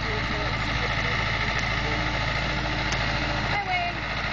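A small red tractor engine drones steadily at close range at a dock pull, a low continuous rumble with faint chatter and a few light clanks over it.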